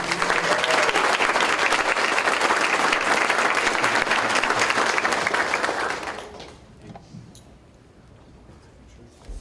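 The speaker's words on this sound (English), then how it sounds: "So let's give everyone one last round of applause." Loud, dense audience applause at a school board meeting, sustained for about six seconds before tapering off into quiet room tone with a few stray claps.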